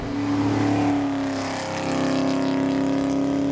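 A tuned 700 HP Hennessey Camaro ZL1 with a supercharger cruises by a roadside, its blower whine riding over a loud, droning exhaust note that dips briefly before swelling again.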